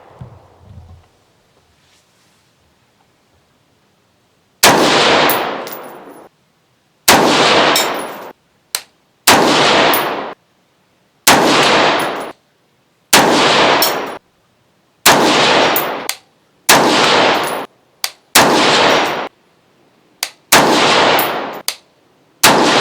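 Rifle firing Gorilla Ammunition 69 grain Sierra Match King rounds outdoors, about a dozen loud sharp shots spaced a second or two apart, each with a brief ringing tail, after a quiet start.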